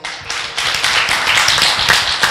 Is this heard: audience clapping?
yes